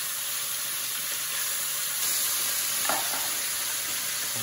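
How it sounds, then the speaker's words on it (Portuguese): Beef sautés in a pot for a Bahian cozido, a steady bright sizzle and hiss with a brief scrape of stirring near the end, no voices. "É muito importante essa parte do refogar, que é uma espécie de fritar a carne"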